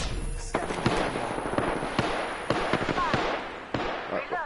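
Rapid bursts of gunfire crackle and pop in a hectic Apex Legends firefight, dense sharp reports overlapping continuously at close range, with voices talking over the shooting.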